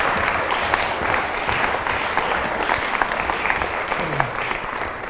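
Convention audience gives teachers a sustained, dense round of applause, steady and fairly loud throughout, with faint voices beneath the clapping.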